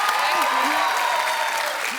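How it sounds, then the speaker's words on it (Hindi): Loud studio audience applause with clapping and cheering fills the room on a Hindi comedy talk show as guests are welcomed. It is steady and sustained throughout. "रणवीर और वाणी के लिए जोरदार तालियां।"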